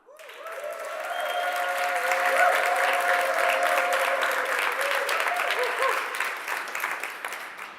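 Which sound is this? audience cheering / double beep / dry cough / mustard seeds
audience cheering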